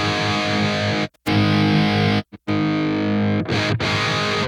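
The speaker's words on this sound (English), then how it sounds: "That's a really great overdrive." Electric guitar played through the overdrive of the Neural DSP Archetype Gojira plugin, loud sustained driven chords with a few abrupt stops and brief silences between strums, no talking.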